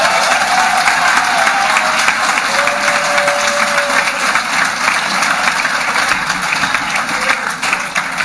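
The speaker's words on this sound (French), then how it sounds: "Je voudrais qu'on applaudisse notre chef de guerre." Audience at a gathering in Congo applauding steadily, dense sustained clapping that fills the room throughout with no pause.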